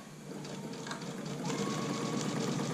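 A sewing machine stitches a zipper bag, running steadily with a brief back tack to lock the stitches before sewing on, a close, continuous mechanical whir with no talking.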